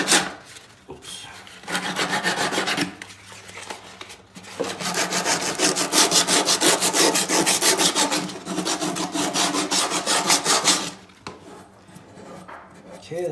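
Sandpaper of 150 grit rubbing back and forth in bursts, scratchy broadband strokes in a few separate bouts with short pauses between, close and fairly loud; brief speech may sit at the edges.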